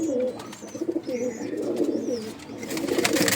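Tournament racing pigeons of Andhra and Madras breeds coo in low, throaty, repeated calls close by, with rustling and faint chirps around them.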